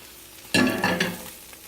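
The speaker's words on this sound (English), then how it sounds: "Now for the flip. I'm going to take this and then flip it over." A Greek omelet flipped in a hot pan, a sudden loud burst of sizzling as it lands, then frying hiss that gradually fades over a second.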